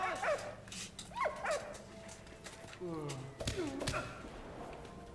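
A dog in the video game Valiant Hearts whimpers and yips in several short bursts, with a bark near the end, heard clearly over a steady background of game sound.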